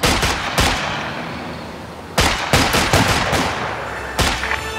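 Video game gunfire: loud clusters of sharp shots and short automatic bursts, one near the start, another around the middle and a final one near the end, separated by lingering reverberant rumble.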